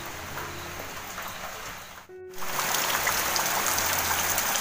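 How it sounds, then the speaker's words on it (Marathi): Steady rain falls over a backyard vegetable garden, a dense even hiss of drops close by, briefly cut off for a moment before resuming slightly louder, with no one talking. "हा बघा चांगला पाऊस आला."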